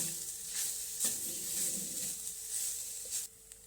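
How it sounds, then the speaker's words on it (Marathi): Grated fresh coconut roasts in ghee in a pan with poppy seeds while modak filling is prepared, giving a soft, steady sizzle with occasional stirring scrapes, fairly quiet and close, with no talking. "हे ओलं खोबरं आपण तुपावर छान असं भाजून घेतलेलं आहे"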